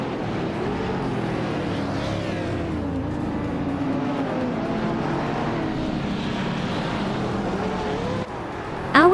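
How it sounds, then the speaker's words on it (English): A Lamborghini Veneno supercar engine in a racing video game drones steadily at mid pitch, shifting in tone as it accelerates, with a sharp burst at the very end; no voices. "Exclusivo Golix is driving a Lamborghini Veneno, a rare and aggressive supercar."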